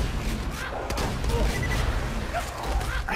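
Rapid SMG fire from a Hyperion submachine gun in Borderlands 2, dense and continuous through the clip at moderate level, with game ambience and faint voice-like tones mixed in.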